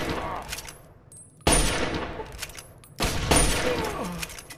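Video game gunshots ring out in two sharp, loud bursts a second and a half apart, each followed by a decaying crackle and reverb, with faint background sounds between.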